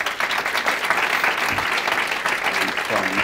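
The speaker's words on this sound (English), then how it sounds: "So let's have a little introduction and applause for our panel." An audience claps for a panel at a discussion on changing LGBT media coverage, a dense steady patter filling the room throughout, with a voice briefly heard at the end.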